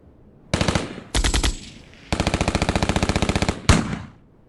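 Several bursts of rapid machine gun fire, close and loud, with short pauses between volleys and a longer rattling burst in the middle.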